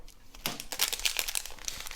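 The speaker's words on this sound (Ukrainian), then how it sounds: "Відриваємо наш пакетик, постараємося зробити це акуратно" Close crinkling and tearing of a thin plastic packet of diamond mosaic beads, a quick series of sharp rustles over two seconds.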